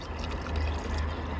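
Liquid from ink cartons is poured in a steady gurgling stream, close and fairly quiet, with no one speaking.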